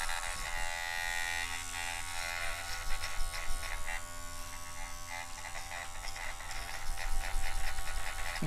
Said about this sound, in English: Shave it all down to a 1.